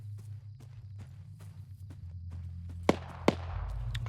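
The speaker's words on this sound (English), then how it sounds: "Shit, shots fired." Two sharp gunshots crack out in Arma 3 over a low engine-like drone and steady soft thumps, one loud report followed by a second about half a second later, with no talk.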